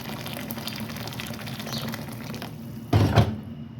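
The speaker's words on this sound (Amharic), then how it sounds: "እንደዚሁ ትንሽ ጨው ካደረኩኝ በኋላ የፈላ ውሃ አድርግበታለሁ ማለት ነው።" Boiling water poured over pasta with oil and salt, a soft continuous watery pour near the mic that swells into a brief louder gush just before the end.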